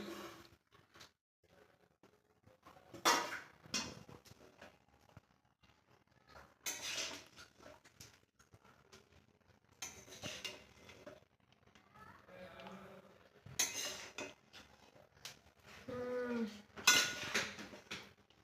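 Chow mein tossed with fried vegetables in a pan gives intermittent bursts of sizzling and metal scraping from stirring, separated by quieter gaps, while people chat nearby.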